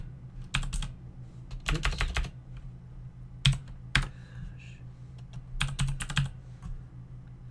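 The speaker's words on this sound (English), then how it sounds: "it'll give you a code, and we will type that in" Keys on a computer keyboard clatter in several short, quick bursts while a code is entered, close and fairly quiet, with pauses between groups of presses and one brief spoken word.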